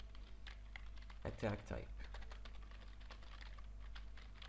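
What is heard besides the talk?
typing on a computer keyboard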